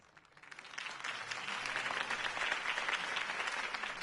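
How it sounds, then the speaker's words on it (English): A crowd bursts into steady applause in Batman: The Telltale Series, swelling within the first second and holding at a full, dense level throughout. "If only Mr. Wayne, my campaign's largest backer, could have heard that applause"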